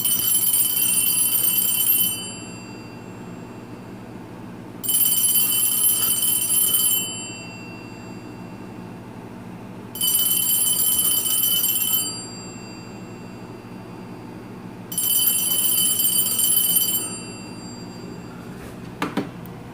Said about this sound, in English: This is the Radio Shack 43175 mechanical bell ringer, and it works.